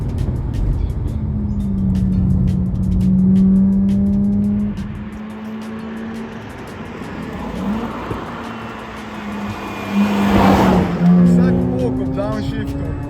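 A Mazda RX-8's naturally aspirated rotary Wankel engine revs high, its steady whine climbing in pitch, dropping away, then rising again toward a peak near the end, loud and close with some road and tire noise.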